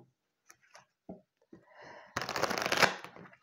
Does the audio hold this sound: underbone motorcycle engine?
no